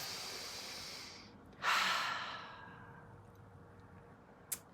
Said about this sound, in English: And take a deep breath in.